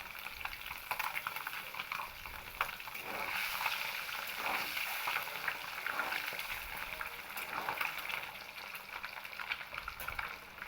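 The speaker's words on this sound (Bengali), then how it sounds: "এখানে আমি হালকা লালচে কালার করেই ডিমগুলোকে ভেজে নেব" Eggs frying lightly in oil in a pan for Bengali egg kosha with taro root, a steady close crackling sizzle with occasional spits and pops, continuing evenly without any talking.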